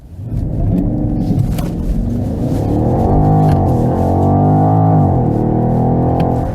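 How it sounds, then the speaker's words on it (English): A 2020 BMW X6 M50i's V8 engine pulls hard at full throttle, its loud, steady roar rising and sweeping in pitch as the SUV accelerates, with no talking over it. "we can really also floor this engine out. This will be pretty amazing, and you can also listen to the V8 sound."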